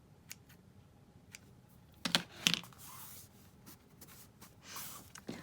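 Scissors trim pieces of paper for a handmade journal, giving a few quiet, sharp snips and rustles close by, with soft handling noises between cuts.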